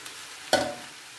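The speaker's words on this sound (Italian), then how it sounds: "alziamo ancora la fiamma perché la polpa è fredda, altrimenti c'è troppa escursione termica" Chicken cacciatora with cold tomato pulp in a pan over a high flame, one short burst of sizzling and stirring that fades quickly, close and clear with no voices.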